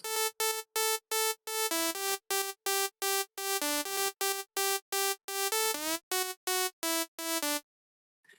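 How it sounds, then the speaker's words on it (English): A bright support lead synth from an electronic dance remake in a remix style plays a choppy run of short staccato notes in a steady rhythm, with a quick pitch slide midway, alone and up front before cutting to silence. "Then we have a support lead."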